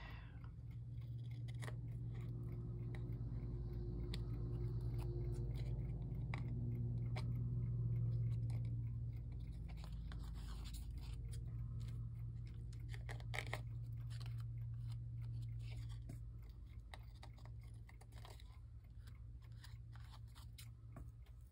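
Scissors trim a Pinterest craft project in a series of quick, close snips and cutting sounds over a steady low hum, with no talking.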